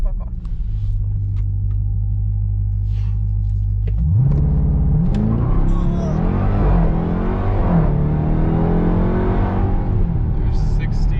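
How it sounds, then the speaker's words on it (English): A 2021 Dodge Durango SRT Hellcat idles with a deep, steady rumble, then launches hard from a standstill at about four seconds, its supercharged engine roaring loudly through rising gear sweeps. Talk is heard faintly under the engine. "We'll do a launch, and then we'll slam on the brakes."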